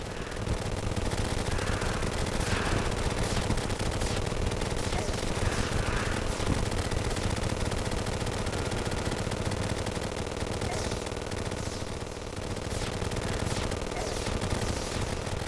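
Candy corn rifle gunfire in the Terraria video game: a steady, dense rapid-fire rattle of shots that runs unbroken for the whole stretch, loud and continuous with a busy game-noise bed underneath.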